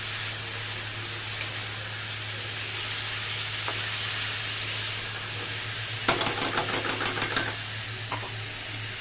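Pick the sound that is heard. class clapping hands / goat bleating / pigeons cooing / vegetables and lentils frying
vegetables and lentils frying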